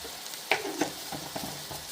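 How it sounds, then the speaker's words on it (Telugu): Chili powder, salt and a pinch of turmeric masala sizzle in a pan while a spoon scrapes and stirs through it, soft repeated scraping strokes over a steady quiet frying hiss. "మొత్తం కలిసే వరకు తిప్పుకుందామండి"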